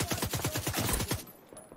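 Rapid bursts of automatic gunfire from The Division 2, close and loud, about a dozen shots in a fast rhythm for just over a second before cutting off into quiet.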